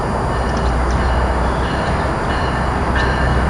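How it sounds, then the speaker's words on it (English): Amtrak Northeast Regional train led by an ACS-64 electric locomotive rolls into Cornwells Heights station, a loud, steady rumble and roar close by with faint high squeal near the end. "Here we have Northeast Regional Train 193 coming in to Cornwells Heights here"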